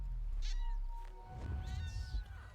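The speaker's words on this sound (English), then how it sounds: "Oh, the kitty." A cat meows twice in a Dota 2 match, two clear drawn-out mews at moderate distance over the low hum of the game's background.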